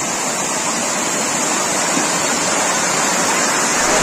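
Ice-cold water of the Habba Khatoon spring rushes in a steady, loud outdoor splash. It is close by, continuous and even, with no voices heard.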